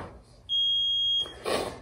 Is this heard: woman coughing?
no